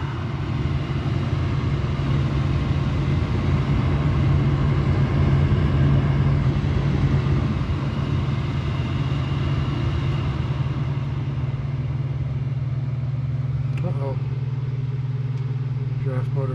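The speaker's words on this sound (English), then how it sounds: "Draft motor came on" HVAC furnace draft inducer motor running steadily as a loud, continuous low hum that holds for the whole stretch, with a few faint clicks near the end.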